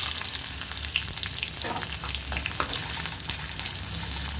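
Onion frying in hot oil with dried chillies for a Madurai-style veg kari dosai, a steady close sizzle with faint stirring scrapes, no talking.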